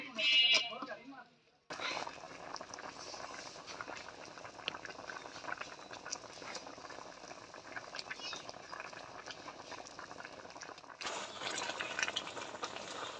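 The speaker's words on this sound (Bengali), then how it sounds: "টমাটোগুলো সিদ্ধ হয়ে গেছে" Tomatoes boil in a pot for homemade tomato sauce. A voice briefly opens the clip, then a continuous close bubbling simmer carries on at an even level and swells slightly louder near the end.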